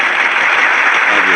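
A burst of applause, a loud, dense, continuous patter of clapping close by that fills the whole short span.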